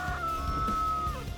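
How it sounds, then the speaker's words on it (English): A rooster's drawn-out crow rings out clearly, a single sustained call over a low rumbling RC car engine in the background. "Got a rooster behind me."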